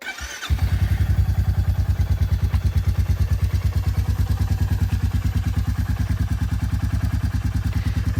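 A Royal Enfield Meteor 350 motorcycle fitted with a DNA air filter fires up after a short starter crank, then settles into a loud, steady single-cylinder idle with an even, thumping pulse that continues alone.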